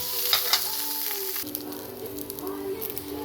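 Onion, garlic, carrots and cabbage sizzle steadily in a hot pan for fried rice, a close continuous frying hiss with a couple of sharp clacks and stirring scrapes as the vegetables are tossed.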